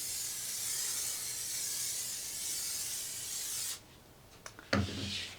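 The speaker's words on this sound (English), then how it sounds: "So what I like to do is take a little spray adhesive" Spray adhesive hisses from an aerosol can onto a carbon fiber telescope tube mandrel in one long steady burst, then stops, followed by a few small handling taps and a short second spray.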